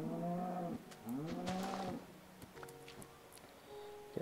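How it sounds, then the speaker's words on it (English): A cow lows in a Minecraft-style taiga video game: two drawn-out moos with rising, wavering pitch, then a lower, quieter one, fairly close and clear. "There's a cow."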